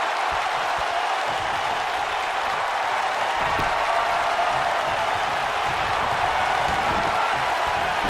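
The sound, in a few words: arena crowd cheering in a wrestling video game, WWE 2K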